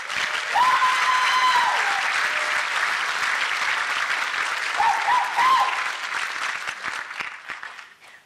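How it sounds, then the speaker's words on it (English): Audience at a Dickinson State University fall commencement ceremony breaks into sustained, full applause in a large hall, steady dense clapping that swells, holds for several seconds and then tapers off, with a few brief cheers mixed in. "with a warm round of applause"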